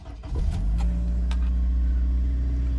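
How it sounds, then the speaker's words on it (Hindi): A car engine turns over and settles into a steady low idle rumble, heard up close with no talking. "जैसे ही आप गाड़ी स्टार्ट करते हैं ना"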